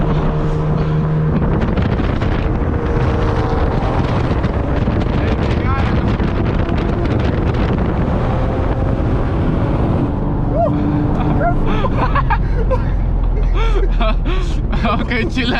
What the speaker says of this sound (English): Q50 versus Audi A3